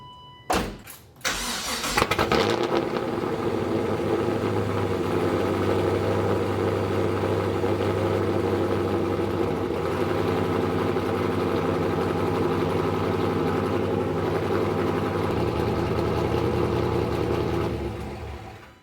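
An LS1 V8 swapped into a BMW E36, fitted with a new exhaust, cranks and fires, then settles into a loud, steady, deep idle that rumbles close by for about fifteen seconds before cutting off.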